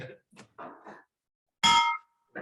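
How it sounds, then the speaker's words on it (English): A single loud bell clang rings out sharply with a lingering metallic tone, preceded by a few short bursts of speech, as a bell is struck to close a Kiwanis club meeting. "If not, I'll bang the bell."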